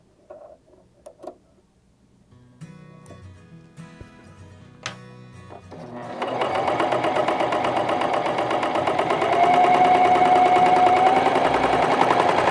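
A Janome CoverPro 3000 cover stitch sewing machine stitching: a few quiet clicks and handling noises, then the motor whirs up into a loud, steady, fast mechanical hum close by.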